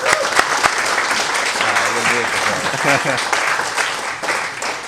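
At a tech user group meetup, an audience claps briefly after a software demo while people talk and laugh over the dense patter of hands.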